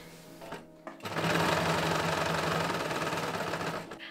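A sewing machine stitches petticoat tier pieces together with French seams, starting after a couple of short taps and then running steadily at a moderate, close hum for about three seconds.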